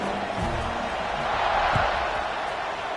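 Stadium crowd in a Madden football video game on PS5 keeps up a steady, broad roar of cheering ahead of the kickoff, with a few low thumps early on.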